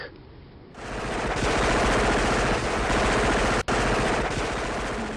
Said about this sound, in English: don't they realise their bullets bounce right off us?